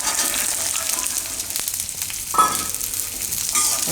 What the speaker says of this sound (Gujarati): ચણાને આપણે તેલમાં શેકી લેવું થોડીક વાર